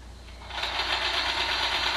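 A sewing machine stitches in a steady, fast mechanical whir that starts softly and quickly rises to a constant, close running sound.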